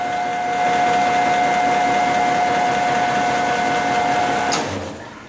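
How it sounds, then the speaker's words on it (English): Motor mounted on top of a large machine, driving down into a gearbox: a steady, close mechanical whir with a sustained tonal whine that stops abruptly near the end. "What's moving it is the motor up on the very top. It goes through down into the gearbox."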